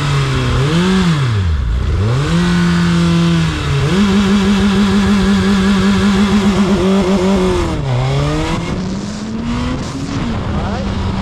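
A new Suzuki Hayabusa with a 1340cc engine held on launch control, its engine revving up and dropping, then holding a loud steady buzzing limiter drone around 6,000 RPM, close and dominant.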